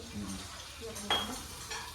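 Flour-battered peyek frying in a pan of oil, a soft steady sizzle with a brief clink of a utensil against the pan partway through, close by and without talk.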